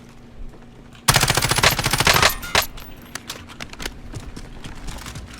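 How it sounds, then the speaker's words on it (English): Automatic gunfire in the Warzone video game bursts out suddenly, a rapid, loud close volley lasting about a second and a half, followed by scattered shots and trailing impacts that fade into lighter sporadic fire. "Oh shoot, somebody's shooting at me."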